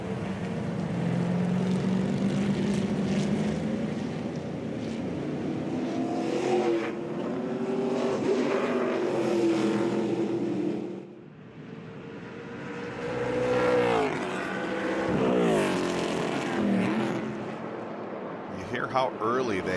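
Stock race cars in the ARCA Menards Series West at Portland International Raceway lift off and slow for a tight set of corners, engine note rising and falling loudly, with a commentator talking over it.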